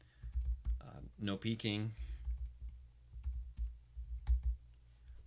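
Computer keyboard typing while a username and password are entered into an online application form, quick light key clicks running through the clip beneath someone talking.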